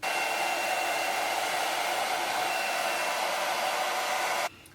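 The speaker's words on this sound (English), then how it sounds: "Turn it to my blow dryer to cold and turn it on" A blow dryer runs on its cold setting on high, a loud steady whoosh close to the microphone for several seconds before switching off abruptly.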